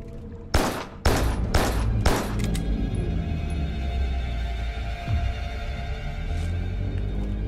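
Video game gunfire erupts in a loud burst of several sharp, rapid shots, then fades into a lingering hum and crackle, with no talking.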